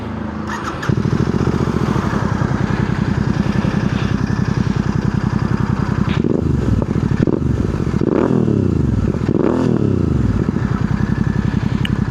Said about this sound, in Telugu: మీకు ఒకసారి దీని ఎగ్జాస్ట్ నోట్ అయితే వినిపిస్తాను. ఒకసారి ఎగ్జాస్ట్ నోట్ చెక్ చేయండి.